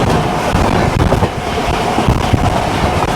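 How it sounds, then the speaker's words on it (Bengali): A Santragachi–Digha local passenger train stands at a station, filling the air with loud rolling rumble, rattling wagons and clattering wheels, close and continuous with no talk. "সাঁতরাগাছি মেচেদা দীঘা লোকাল তার সেকেন্ড স্টপেজ আন্দুলে চলে এসেছে।"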